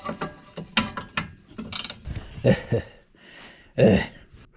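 A ratchet turns a 14mm socket to loosen a bolt on a Honda CRX, heard as several short, close bursts of mechanical clicking separated by brief pauses.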